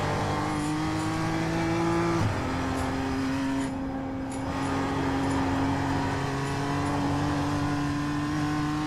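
A BMW M2 race car in the iRacing video game drones with steady engine tones that shift pitch as it brakes and revs through a corner. The sound is loud and continuous, with no talk.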